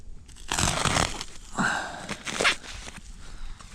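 Plastic wrap on a round bale of second-cut hay is sliced and torn open outdoors, a few close crinkling, ripping bursts with brief pauses between them.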